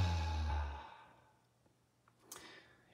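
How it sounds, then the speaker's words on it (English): A single deep breath drawn in and let out as a soft audible sigh, close and quiet, fading into near silence with a faint click afterward. "take a deep inhale and exhale"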